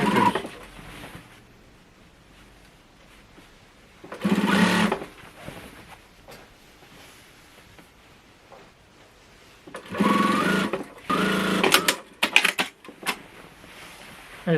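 A sewing machine stitches curtain fabric with pleats in short, loud, close bursts of rapid whirring, separated by quiet pauses while the cloth is repositioned.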